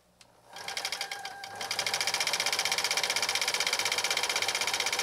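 A New Home SL2022 all-mechanical 1.0 amp sewing machine stitches with a fast, steady needle rhythm after a brief start, running loud and close without pause.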